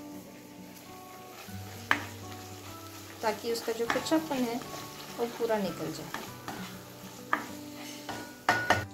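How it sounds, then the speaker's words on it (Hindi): A spoon stirs ginger garlic paste into onion and tomato in a sizzling pan, with soft scraping strokes bunched in the middle, while someone speaks over the cooking. "अब इसे अच्छे से हम लोग मिक्स करेंगे"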